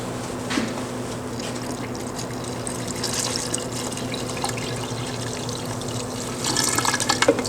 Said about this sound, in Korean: 반죽을 하기 위해서 액체 재료를 혼합하겠습니다.